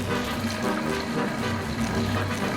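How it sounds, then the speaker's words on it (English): Toilet flushing in an animated series, a loud continuous rush and gurgle of swirling water that fills the whole moment without speech. "I'm about to be flushed!"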